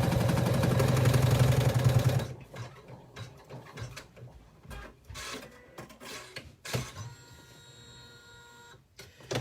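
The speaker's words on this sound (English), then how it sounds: "we're basically sewing a panel of fabric together" A sewing machine stitches fabric panels together for a zipper bag, with a dense, steady mechanical whir up front that gives way to quieter intermittent clicks and handling noises nearby.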